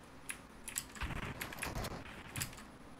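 A computer keyboard clicks during a Fortnite game, a quick, irregular run of light taps at low level with no voice over it.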